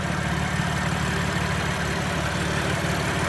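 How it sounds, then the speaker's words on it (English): BMW M car engine, an M4 or M3, idling close by with a steady, throbbing low rumble and even pulses that run unbroken through the whole short clip, with no talking. "Very impressive engine."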